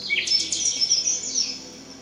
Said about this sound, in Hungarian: tehát az én eredeti madárhangom.